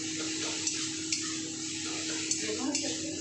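Chopped tomato and spices fry in oil in a pan for a tarkari dal, giving a steady, soft sizzling hiss with a few light clicks of stirring, while a voice talks over it.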